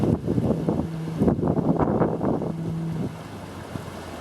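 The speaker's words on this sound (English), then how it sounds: "There's the Manly ferry crossing the heads here." The Manly ferry crosses Sydney Heads off Middle Head, its engine a faint, distant drone beneath heavy wind gusts that batter the microphone.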